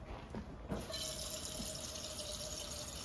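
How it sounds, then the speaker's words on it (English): Water is poured into a saucepan as a steady splashing, hissing stream that starts after a faint knock and runs continuously at moderate volume, with no one speaking. "So we're gonna pour water."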